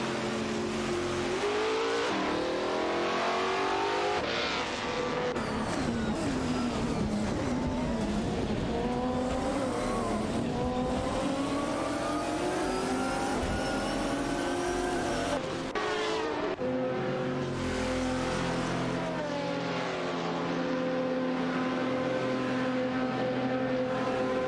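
Race car engines roar continuously in a racing video game, including a Porsche Carrera GTR, with sweeping revs rising and falling as cars shift gears and jostle for position, loud and unbroken throughout.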